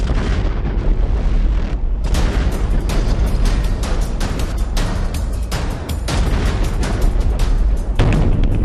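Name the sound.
explosions in war-torn Kharkiv, Ukraine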